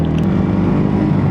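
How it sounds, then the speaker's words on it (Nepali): A Yamaha R15 motorcycle without a full silencer roars loudly and steadily on a ride, its exhaust giving a continuous deep drone throughout. "R15 को आवाज झन् यत्रो छ नि त पुरा साइलेन्सर होइन त्यही भएर पुरै लाउड आइरहेछ क्या"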